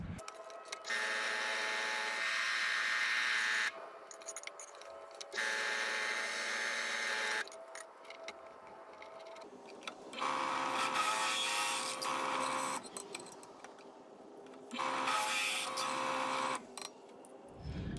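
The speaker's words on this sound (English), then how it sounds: "we're going to go ahead and use the drill press and drill it out" A drill press grinds through a metal bracket in several long bursts, with steady whirring pauses between cuts and the motor humming throughout.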